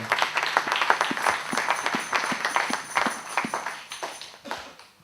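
A church congregation claps at a preaching service, loud and close, with sharp individual claps in a quick, uneven rhythm that thins out toward the end.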